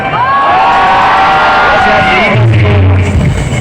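Live audience at an outdoor singing event at Patrika Gate in Jaipur cheering and shouting loudly, a dense sustained roar of voices and whoops, with a louder bellow near the end.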